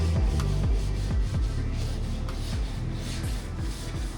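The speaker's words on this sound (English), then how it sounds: "Here's Gregorio trimming the piece and giving a little sand so it doesn't leave the edges proud and you don't chip it moving around." Hand sanding along the edge of a solid maple wood piece, a steady close rasping rub in repeated back-and-forth strokes, loud and continuous with no talk.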